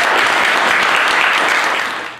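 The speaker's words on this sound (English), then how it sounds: "Give yourself a great hand clap." Audience applause and hand clapping at a dance residency event at a school, a dense, even wash of many hands, loud and close, tapering off slightly at the end.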